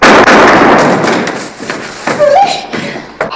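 A gunshot in a western TV series, a loud sharp burst at the start that decays into a rumbling tail, followed by quieter thumps and faint background voices.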